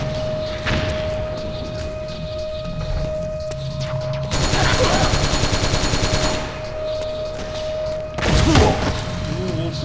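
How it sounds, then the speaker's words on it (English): Missiles and heavy gunfire aimed at the player in Metal Gear Solid 4: Guns of the Patriots, a dense loud barrage of blasts and thuds running throughout, swelling into an intense burst midway and another impact near the end. "Shooting missiles at me."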